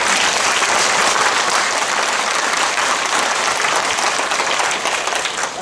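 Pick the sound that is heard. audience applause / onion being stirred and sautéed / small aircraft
audience applause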